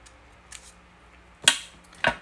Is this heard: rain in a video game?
no